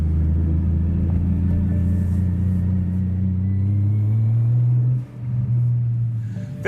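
A single-turbo BMW E92 335i drives along with a steady, loud, close engine drone and road rumble. The note eases briefly near the end before it carries on.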